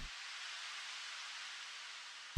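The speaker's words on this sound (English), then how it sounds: "the other 16 we have a little bit more white noise as a faller." A white noise faller effect from a dance remix breakdown of a pop track, a steady broadband hiss sustained on its own at a fairly quiet level for a couple of seconds before cutting off abruptly.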